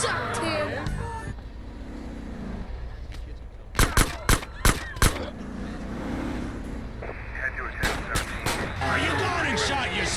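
Gunfire in the video game GTA San Andreas, a rapid burst of four or five sharp shots in the middle, then another quicker cluster, over game background noise, engine rumble and occasional character voices.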